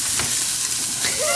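Farmer sausage burgers sizzle on a large outdoor grill, a steady, loud, close hiss of frying fat with a few faint crackles.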